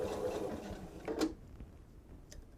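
A sewing machine stitches down a flipped seam on a bench pillow, a short steady mechanical whir that swells briefly near the middle, then runs on more quietly with a faint tick.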